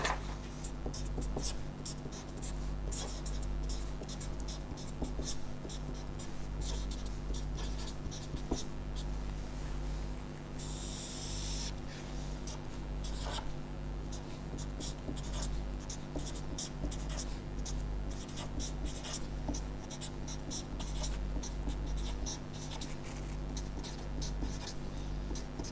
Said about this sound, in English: So, let me straight away now draw.